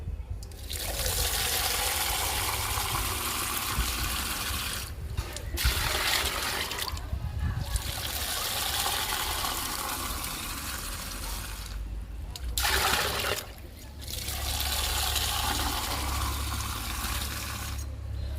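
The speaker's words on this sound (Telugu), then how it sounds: "వాటర్ కలుపుకుందాము" Water from a mug is poured into aloe vera liquid in a container and mixed at three mugs of water to one of liquid, making a steady close splashing pour with a few brief breaks.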